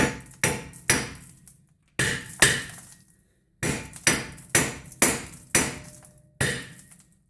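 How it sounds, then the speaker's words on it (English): Loud metallic hammer strikes on the steering knuckle of a 2000 Dodge Ram truck, ringing out in quick bursts of two and three, about eleven blows with short pauses between groups. "we're going to give it a couple whacks with the hammer"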